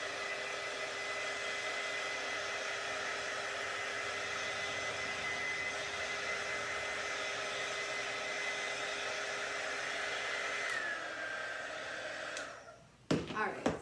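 A hair dryer blowing steadily on chalk paste during a DIY home decor crafting project, a close continuous whooshing roar that holds level for about eleven seconds, then winds down and switches off with a few clicks and handling thumps.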